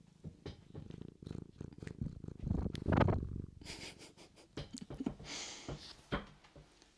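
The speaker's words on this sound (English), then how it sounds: "Are you purring, sweetheart?" A cat purring close to the microphone, a soft rhythmic rumble that swells and fades in cycles, with some rustling and breathy noises.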